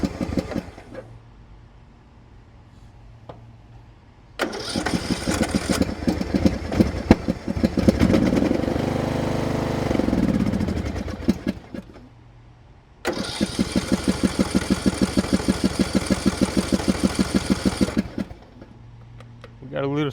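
A used lawn mower engine cranks and catches, sputtering into a rough run, dies back, then restarts into a steady rapid chugging; voices talk quietly between attempts.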